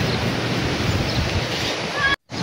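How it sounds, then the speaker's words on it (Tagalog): Sea waves along a coastline seen from a ride past mountains, a steady broad wash of surf filling the clip, close and fairly loud, cut off by a brief silent gap near the end. "Ayan guys, so narinig nyo yung yung tunog ng dagat."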